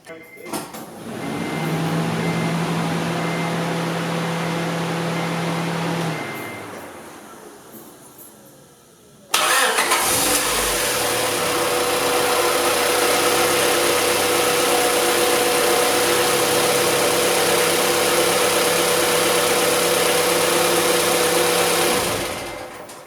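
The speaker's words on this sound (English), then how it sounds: "we're gonna go start the car up now and see if the connections work" A Honda Integra Type R runs at idle, stops, then restarts after a fresh battery terminal install, settling into a steady, close mid-pitched engine hum with a faint whine, while someone talks partway through.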